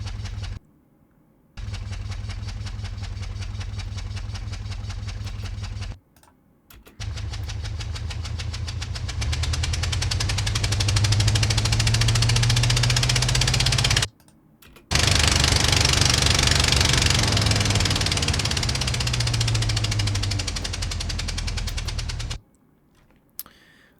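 Truck engine cranking and running with its spark plugs removed, a heavy rough chugging with knocking pulses, loud and close, in several long takes broken by short silences.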